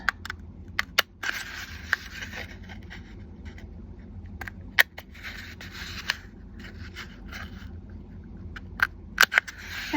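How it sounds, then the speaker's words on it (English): Small scissors snip along the score lines of a cardboard box, with several crisp, close cuts and rasping, scraping bursts across ten quiet seconds. "I'm just going to bring in a real small scissor here and go in and cut all 4 of those"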